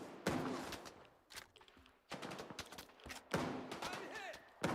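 Characters in Stalker 2 fire guns at a wall, producing several bursts of sharp, echoing gunshots separated by brief pauses, fairly faint overall with some ricochet-like ringing.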